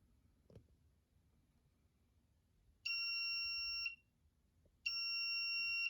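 Two loud electronic alarm beeps, each about a second long with a gap between, from a basic alarm system programmed in Thonny Python, sounding against quiet room hiss.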